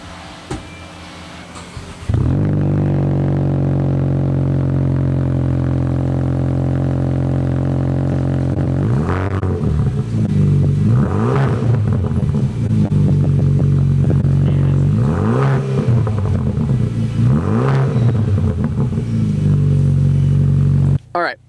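Maverick Lobo off-road vehicle with a 3-inch Thermal R&D exhaust starts into a deep, steady idle rumble, then is revved in several sharp rising bursts, loud and close.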